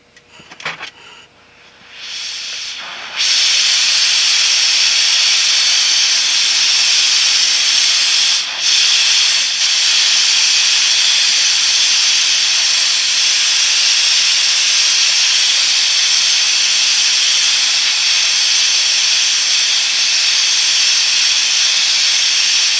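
A propane-oxygen torch heating a Morgan silver dollar to a dull red for annealing, roaring as a steady loud hiss that ignites after a few quiet seconds and holds unbroken to the end.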